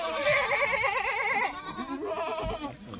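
Kathewadi goats delivered by truck bleat loudly and repeatedly, wavering cries overlapping close by, with a quieter bleat later.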